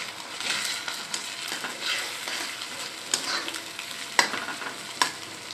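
Ginger-garlic paste fries in a hot pan for a karela (bitter gourd) dish, giving a steady broad sizzle with intermittent scraping stir strokes and a few sharp clinks near the end.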